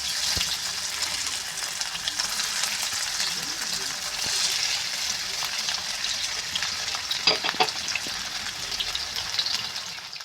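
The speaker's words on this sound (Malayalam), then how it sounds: "നമ്മൾ ആദ്യം ആ എണ്ണയിൽ പന്നീരിനെ ഒന്ന് റോസ്റ്റ് ചെയ്തെടുക്കുക" Paneer sizzles and crackles steadily in oil in a pan, with a few louder spits and scrapes of stirring, close by.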